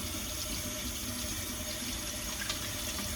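Tap water runs steadily and fairly loud over a garlic press being rinsed at a kitchen sink, a continuous close rushing splash with no talking.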